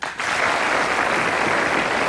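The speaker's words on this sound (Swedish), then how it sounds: "Ge honom en applåd." A Swedish late-night TV studio audience bursts into sustained, dense applause for the show's producer, loud and steady after a brief pause at the start.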